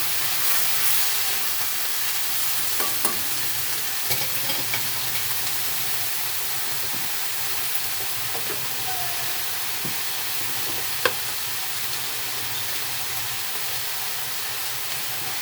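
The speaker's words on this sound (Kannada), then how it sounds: "ಟೊಮೊಟೊ ಕೊತ್ತಂಬರಿ ಎಲ್ಲವನ್ನು ಇದರಲ್ಲಿ ಸೇರಿಸ್ಕೊಳ್ಳಿ ಹಾಕಿ ಒಂದ್ಸಲ ಈ ರೀತಿ ಮಿಕ್ಸ್ ಮಾಡಿ" Tomato and coriander stirred into frying onions in a pan for a fenugreek seed gravy, a soft steady sizzle and hiss with a few faint scrapes and clicks of a spoon.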